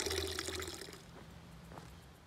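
Fresh water runs and splashes from a fountain beside a path near a river in the Liébana area of Cantabria, Spain. There is a close, bright gush that fades after a second into softer background trickling, with no one speaking.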